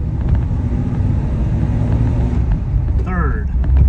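A Chrysler with Fluid Drive and a 3-speed manual transmission driving along, a loud close engine rumble with road and wind noise, and a brief rising whine near the end as it shifts.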